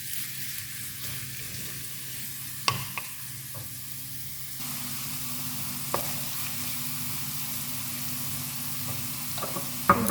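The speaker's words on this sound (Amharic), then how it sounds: "እዚህ ጋር ሽንኩርቱን እንጨምራለን።" Chopped onions frying in hot oil in a pan, a steady close sizzle that runs throughout with a few light clicks and stirring knocks, no talking.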